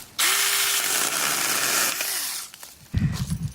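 A small battery-powered pruning tool whirs at a steady high pitch for about two seconds, then winds down, followed by a brief clatter of handling noise nearby.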